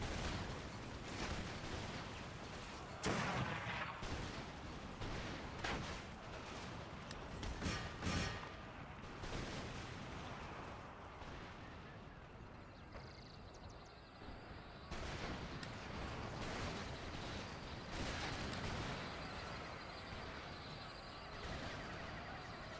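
In the Empire Total War video game, disciplined lines of musketeers fire volley after volley. Ragged, rolling crackles and heavier bursts break out repeatedly over a dense, continuous din of battle.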